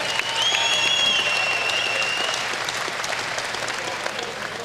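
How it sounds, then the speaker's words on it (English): Crowd applause at a Muay Thai bout for both fighters, steady clapping from the arena with a shrill whistle or cheer rising early, then the clapping settling into an even patter. "how about a nice round of applause for both fighters"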